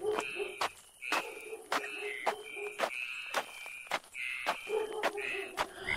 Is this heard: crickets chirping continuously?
yes